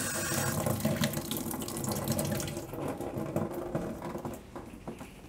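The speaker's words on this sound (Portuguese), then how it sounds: "Estão ouvindo o barulho da torneira?" Water runs steadily from a tap onto potted Catasetum orchids during watering, a continuous splashing flow that eases slightly toward the end.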